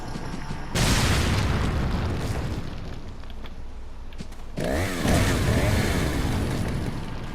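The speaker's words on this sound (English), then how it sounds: "I don't normally use grenades here, but I need to clear up some inventory space anyway" Grenade blasts from the video game Resident Evil 4: a loud booming explosion hits suddenly, followed by a lingering roar, then a second heavy burst with rumbling debris that slowly dies away. No voices.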